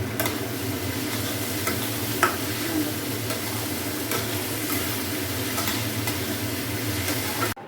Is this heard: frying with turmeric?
yes